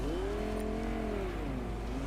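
A car engine drones and shifts pitch as the vehicle drives in the Fortnite video game, a steady mid-level whir with no talk over it.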